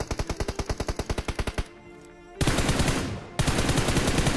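Gunfire in the mobile video game Battlegrounds Mobile India: a rapid, evenly spaced burst of automatic shots, a short pause, then two loud sustained streams of continuous fire, with no talk.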